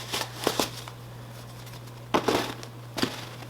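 A down sleeping bag is tugged out of its stuff sack in short, close bursts of soft nylon rustling and crinkling, with quiet pauses between pulls.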